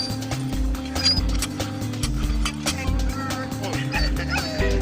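A trapped puppy whimpers and yips during a fire department rescue from a hole, with short bursts of barking and whining over a busy, cluttered background as people move and talk nearby.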